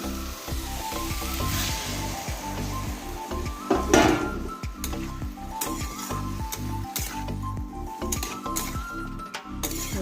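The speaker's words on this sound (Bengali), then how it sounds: "আলুটা ঝিঙেটা ভাজা ভাজা হয়ে গেছে, লাল লাল হয়ে গেছে" Potato and ridge gourd sizzle in a pan, a continuous frying crackle punctuated by frequent stirring scrapes and metallic clinks of utensils against the cookware.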